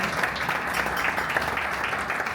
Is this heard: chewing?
no